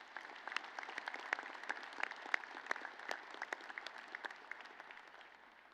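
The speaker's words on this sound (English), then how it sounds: "Please give them all a round of applause." A commencement audience claps at a fall graduation ceremony: dense, steady applause from a large crowd, with many sharp individual claps that gradually thin and soften toward the end. No one speaks.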